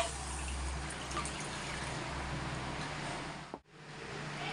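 Water pours steadily into a pan to make sugar syrup for gulab jamun in a home kitchen, a faint continuous trickling that cuts off abruptly near the end.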